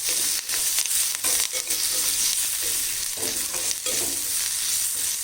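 Ginger, green chilies and curry leaves crackle in hot oil for a raw banana upma curry, a loud, close, steady sizzle broken by brisk spatula stirs.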